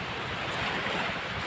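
Strong sea waves break at the shore in a dense, continuous roaring wash, loud and steady, with wind rushing over the microphone.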